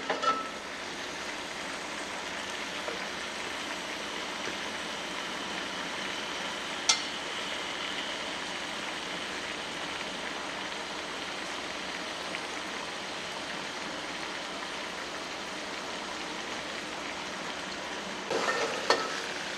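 Wild bitter gourd (karela) fries in a pan with a steady, dense sizzle throughout. A couple of brief stirring knocks break through, one near the middle and a few at the end, with no one speaking.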